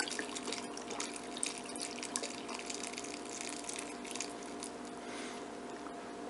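Vegetable broth pours steadily into a soup pot of mushroom barley soup, a continuous soft liquid splash and trickle lasting the whole stretch at low, even loudness with no talking.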